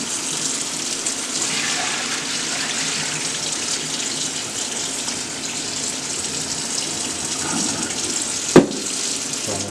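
Tap water runs steadily into a bowl while pasta salad is being made, a continuous gushing splash that ends with a single sharp knock near the end, and nobody speaks.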